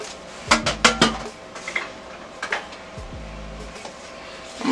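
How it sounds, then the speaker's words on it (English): Onions tumble into a pressure cooker pot holding beef broth for Korean beef, making a burst of close clattering knocks followed by scattered lighter taps and a final clank, with no talking. "I'm going to go ahead and put in our onions now."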